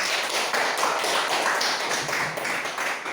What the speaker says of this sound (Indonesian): Berikan tepuk tangan kepada kawannya.